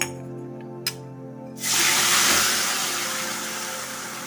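After a couple of faint clicks, a sudden loud sizzling hiss erupts as a bitter gourd mixture hits hot oil, then settles into a steady, gradually softening sizzle close by.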